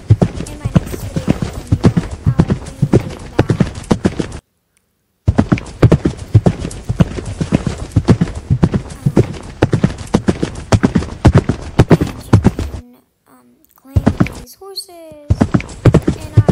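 Hooves of horses in a Roblox stable game clip-clop in quick rhythmic runs of sharp knocks, broken by two brief silent gaps, with a horse's whinny briefly heard and a person talking over the steps.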